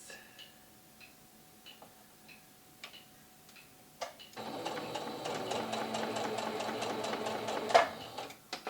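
A sewing machine stitches bargello quilt pieces in a steady run lasting about four seconds, loud and close. Before it starts, faint scattered ticks and small clicks come from handling the fabric and the machine.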